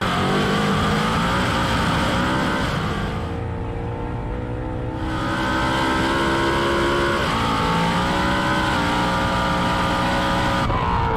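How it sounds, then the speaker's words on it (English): Ford dual-clutch transmission in a 2024 car with traction control active, hunting for a gear: loud, continuous engine drone with shifting revs, a brief dip in the middle and sudden pitch changes, no talk. "Listen to the DCT, try to find a gear"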